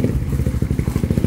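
Suzuki Raider 150 FI motorcycle with a freshly remapped stock ECU and power pipe, idling close by with a fast, loud, choppy exhaust pulse in an even rhythm and no voices.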